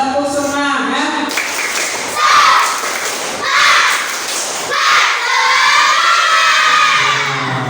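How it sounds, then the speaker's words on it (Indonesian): A classroom of third-grade pupils performs a spirit clapping chant, rhythmic group claps in bursts mixed with loud children's voices chanting and shouting together, close and lively. "Coba Bapak minta tepuk semangat."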